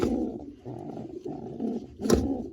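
Pigeons in a loft coo softly in repeated low, rolling phrases, close by, with a brief louder rustle or flutter near the end and no talking.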